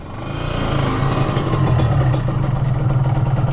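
A Kawasaki Ninja 150 motorcycle engine idles nearby with a steady, loud low-pitched chugging and light mechanical clatter, holding an even rhythm throughout with no talking.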